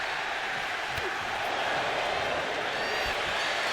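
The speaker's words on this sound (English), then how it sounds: "Jacob Fatu feeding off the crowd, feeding off their energy." Crowd at a live SSW pro wrestling event during a Priest versus Fatu match, cheering and roaring in a steady, dense wash throughout, with no distinct pauses.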